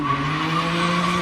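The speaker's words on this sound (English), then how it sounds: "Kenny's doing launch control out here" A BMW G87 M2 with catless downpipes sits in launch control, the engine holding a loud, steady high-rev drone with a tire-squeal-like whine layered over it, close and continuous.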